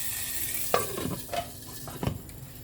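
Oil from the kadai goes into smoky dhuwan dar chicken salan, giving a low sizzle broken by a few close clanks and stirring scrapes against the pan, with no talk.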